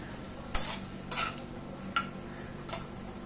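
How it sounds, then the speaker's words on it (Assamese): A utensil stirs cauliflower, peas and French beans frying in a pan, giving four distinct scraping clinks spaced about half a second to a second apart over a quiet, steady background sizzle. "ইয়াতে দিলো ফুলকবিখিনি মটৰ আৰু ফ্ৰেঞ্চবিনখিনিও একেলগে দি দিছো দি গোটেইখিনি ভালদৰে লৰাই দিছো"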